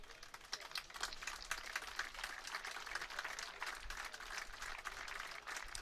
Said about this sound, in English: Well, he's got a round of applause,